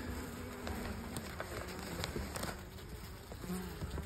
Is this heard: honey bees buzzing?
yes